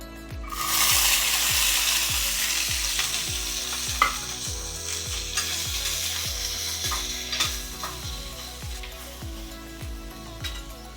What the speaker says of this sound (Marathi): थोडे परतून घ्यायचे, खूप नाही.